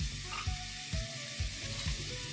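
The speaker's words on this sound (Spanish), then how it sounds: "Aquí vamos a agregar la cebolla." Onion frying in a pan for a Bolognese pasta sauce, giving a steady, close sizzle with soft stirring bumps roughly every half second and no talking.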